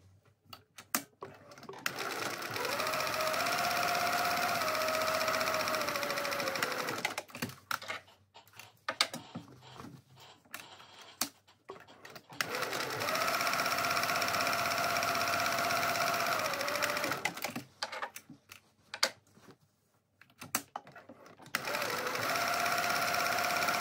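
A sewing machine top stitches the folds of a handbag in long steady runs, with pauses between passes while the fabric is repositioned; close and fairly loud, no talking.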